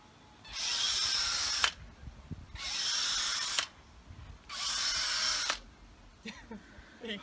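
A power drill whirs in a garden in three separate close bursts of about a second each, with short pauses between them and quiet clicks after the last run.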